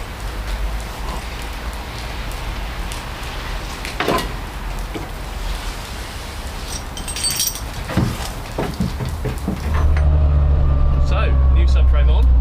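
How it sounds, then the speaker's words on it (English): An Audi A3 race car out on a test drive gives a steady, close road-and-engine rumble with broadband noise, and a heavier low drone swells in around the final couple of seconds. "We're out for a little test drive."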